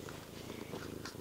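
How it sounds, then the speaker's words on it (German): A cat purring at close range, a soft continuous rumbling throb filling the moment without any other sound. "Sie schnurrt."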